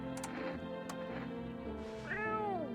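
A cat meows repeatedly inside a video game, close and clear, with a rising and falling final meow over a steady background of game music or ambience.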